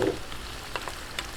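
Dried chili, whole peppercorns and bay leaf hit hot oil and give a soft, steady sizzle with a few faint crackles over a brief moment.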